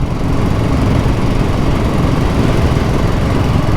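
A BSA Goldstar single-cylinder motorcycle engine runs steadily with a loud, dense, low thumping drone and no pauses.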